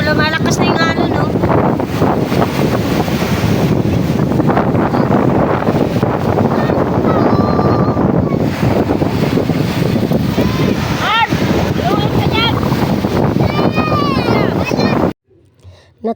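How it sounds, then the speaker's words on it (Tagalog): Strong sea waves at the beach, a loud continuous surf roar mixed with heavy wind buffeting on the microphone, with people talking and voices of children heard faintly under the noise. "Ito yung malakas na yung alon, no?"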